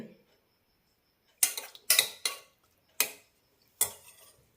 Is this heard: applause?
no